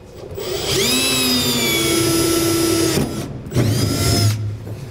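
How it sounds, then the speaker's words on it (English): A 1/4 inch drill bit boring a pilot hole during a gooseneck hitch install on a 2015 GMC Sierra: a loud whining drill that runs for about two seconds, stops briefly, then spins up again nearby. "Next, we're going to take a 1/4 inch drill bit."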